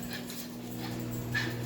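Dogs whimper and whine in high, thin cries in the background of a kitchen during cooking, faint and intermittent over a steady low hum.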